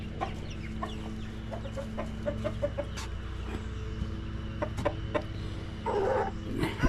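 Hens and a rooster cluck around a farm yard, scattered short clucks near and far over a steady low hum, with a louder burst of activity toward the end.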